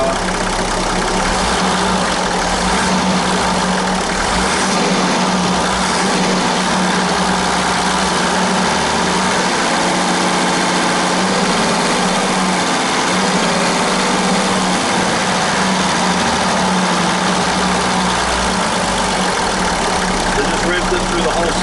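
A 1994 Toyota Coaster bus engine runs with the bonnet open, a steady loud close-up drone that rises as it is revved, with a voice talking over it.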